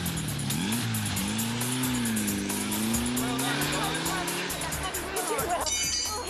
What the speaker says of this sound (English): car will need to fly around the track to make up the time